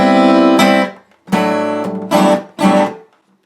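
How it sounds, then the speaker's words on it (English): A short acoustic guitar fill from the verse of a song, three quick strummed or picked bursts separated by brief gaps, close and alone. "There's a little fill in the verse you can throw in on the line"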